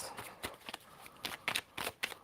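Tarot cards being shuffled in a couple of quick, soft riffling bursts with crisp snaps, heard close and quiet with no talking.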